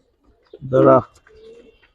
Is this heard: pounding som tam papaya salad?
no